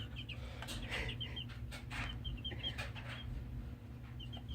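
Chickens cluck in short, repeated bursts, faint and a little distant over a steady low background hum, with no talking.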